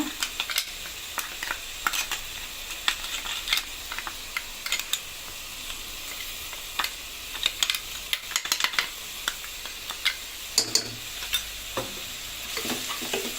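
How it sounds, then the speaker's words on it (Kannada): Roasted chili, cumin and pepper spice powder sizzles and fries in a pan for a chicken curry, a steady crackling hiss broken by frequent sharp scrapes and clicks of stirring, close and fairly loud with no voices. "ಪೌಡರ್ ಹಾಕ್ಕೊಂಡು ಫ್ರೈ ಮಾಡೋಣ."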